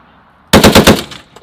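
An M2A1 .50 caliber heavy machine gun fires one short, very loud burst of about five rapid, booming shots, then the echo trails off.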